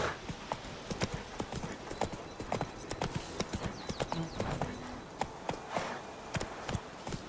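Roach the horse in Witcher 3 trotting along, hooves clip-clopping in a quick, uneven rhythm with a brief snort or whinny partway through, moderately close and with no talk.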